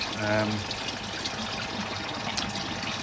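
Water flowing steadily through a koi pond filter system, a continuous soft rushing wash that stays even throughout, with a brief voice-like murmur near the start.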